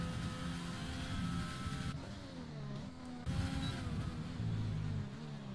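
In a PC racing game set at the Hungarian GP, a race car engine revs and shifts through gears with rising and falling whine, steady and moderately loud throughout.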